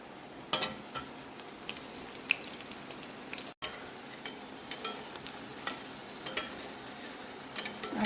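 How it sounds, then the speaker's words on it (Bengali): Pumpkin flower fritters frying in hot oil, a steady crackling sizzle with scattered sharp pops and a few soft utensil clinks, close and continuous, no one talking. "ভেজে নিচ্ছি কটা কুমড়ো ফুলের বড়া।"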